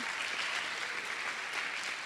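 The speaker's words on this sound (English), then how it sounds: "All right, let's applaud that one." An audience at a youth achievement celebration event breaks into steady, dense applause, many hands clapping together at an even level throughout, with no voices over it.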